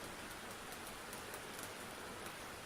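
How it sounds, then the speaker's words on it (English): Summer rain in the video game Minotaur falls as a steady, quiet patter with occasional brighter drop ticks, soft and continuous with no other sounds. "Novian summer rain seems to last for ages."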